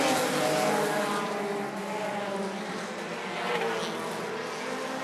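Midwest Dash Series race cars circle Rockford Speedway in the closing laps of a feature race, a constant buzzing engine drone heard from a distance that swells slightly as the pack passes, with no talking.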